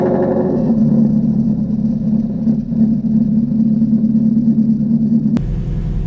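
A Ford Mustang GT350 cranks and fires up, its engine rumbling loud and uneven with a stumble before settling into a lower rough idle, close to the microphone with no talk.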